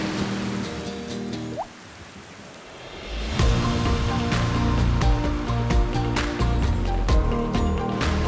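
Heavy rain pours down in Ao Nang, a dense, continuous wash of water that grows louder and fuller after a quieter opening, with scattered sharp drips and splashes.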